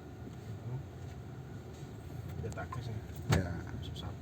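A 2013 Kia Sportage fitted with a Blackcore sits idling without throttle, a steady low engine rumble close by with a brief louder knock near the end and a voice faintly present.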